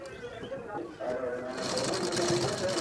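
A sewing machine stitches blouse fabric, its rapid whirring chatter kicking in about a second in and running loud and steady to the end, with a voice talking over it.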